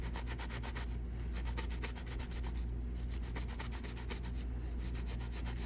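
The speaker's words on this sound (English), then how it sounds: "starting with the 220 grit one. Just sand evenly all around." Rhythmic 220-grit sandpaper rubbing on a Jinhao 82 fountain pen, quiet and close, with regular back-and-forth strokes and brief pauses between passes.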